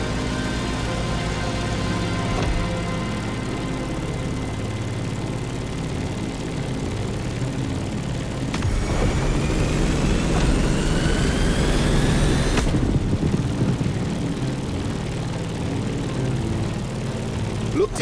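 Propeller airplane engine droning steadily as the aircraft climbs in the racing game The Crew Motorfest, a continuous hum that swells louder partway through before settling back.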